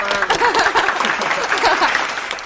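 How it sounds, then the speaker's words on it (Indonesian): Audience applause at a talk show or podcast taping, a steady burst of close, loud clapping mixed with crowd cheers and voices talking over it. "Tepuk tangan dong, tepuk tangan."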